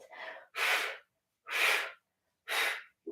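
Heavy breathing during a mini band ab exercise: four strong, close, breathy exhalations in a steady rhythm, each about half a second long with brief silences between, heard alone without talk.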